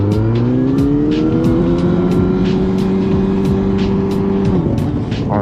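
Kawasaki motorcycle accelerating up to 50 km/h ahead of a brake test: a loud, close engine drone rising steadily in pitch, then easing off near the end, with no talking.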